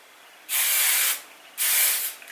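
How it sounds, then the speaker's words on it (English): Hairspray misted lightly over curled hair in two steady hissing bursts, each lasting under a second with a short quiet pause between, close and fairly loud. "I'm going to use this just to lightly spray my curls"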